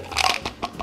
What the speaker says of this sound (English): I'm gonna get a chewing gum.